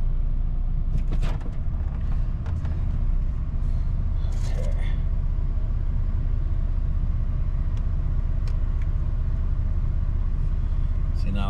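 A 2004 Chevrolet S10 Xtreme Blazer with a ticking noise idles close by, a steady low engine drone running throughout with faint intermittent clicks on top.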